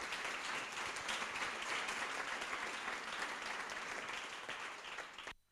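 Warm, steady applause from an audience at a book presentation, dense clapping sustained for about five seconds at a fairly low level before stopping abruptly.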